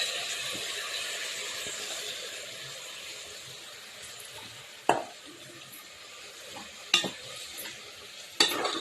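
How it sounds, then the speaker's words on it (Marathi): Kolam rice sizzles softly in hot oil in a pan while being stirred for veg pulao, a steady quiet frying hiss broken by a few sharp scrapes of the spoon against the pan. "हा आपला साधाच राईस आहे, कोलम, तर त्यात टाकते"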